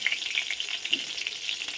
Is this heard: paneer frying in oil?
yes